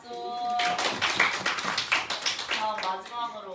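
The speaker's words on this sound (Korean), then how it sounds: "박수." A classroom breaks into applause, a short burst of quick, overlapping claps that follows and overlaps a teacher's speaking voice.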